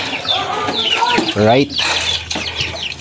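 A caught native chicken clucks in short bursts, including a loud, strained call in the middle, with someone talking over it and rustling handling noise around it.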